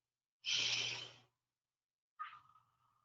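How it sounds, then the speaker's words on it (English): Two deep breaths during seated stretches, close and quiet: a long, airy exhale, a pause, then a shorter breath tapering off. "A couple more deep breaths here."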